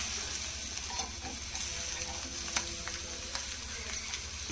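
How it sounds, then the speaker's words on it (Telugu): An omelette fries in a pan and is turned over, steady close sizzling with a few clinks and scrapes of a utensil against the pan. "అప్పుడు ఫ్రై మలిపేసుకోవాలి ఫ్రెండ్స్."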